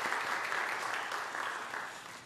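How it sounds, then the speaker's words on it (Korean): A church congregation applauds during a Sunday worship service, a steady, dense wash of clapping from many hands that holds at an even level for a couple of seconds before easing slightly at the end. "우리 박수로 격려하겠습니다"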